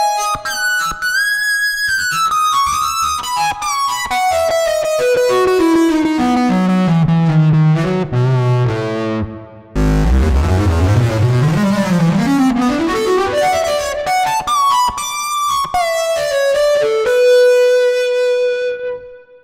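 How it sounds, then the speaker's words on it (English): A wind synth patch of two slightly detuned pulse waves driven through distortion and a filter distortion stage, playing loud gliding melodic lines that swoop down and back up, gritty and buzzy. "a couple of pulse waves running through distortion, and they're slightly detuned, and there's also a filter distortion section"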